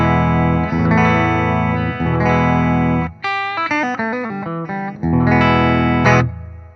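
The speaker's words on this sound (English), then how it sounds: "Here's our clean tone." An electric guitar plays a clean tone before it goes through a Ripped Speaker fuzz pedal: sustained strummed chords, then a run of short separate notes, then ringing chords again, played alone.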